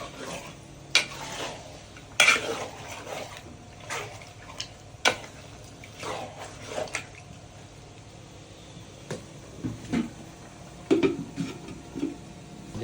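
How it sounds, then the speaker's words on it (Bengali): Duck meat being stirred and fried in oil in a pan at an outdoor picnic, with scattered scraping and clinking of a utensil against the pan over a low sizzle, irregular and fairly close. "মাংস কষানো চলতেছে।"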